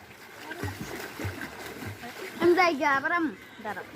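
Children splash and swim in a large village pond while people talk throughout. Soft water splashes and paddling sit beneath the voices, and one louder voice rises near the end.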